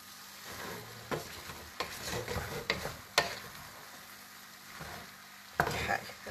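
Potatoes frying in a frying pan are stirred, giving irregular scrapes and clacks every second or so over a quiet, steady sizzle, close by with no talking.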